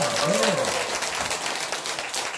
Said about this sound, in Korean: 여러분 이때 박수 한번 주셔야 됩니다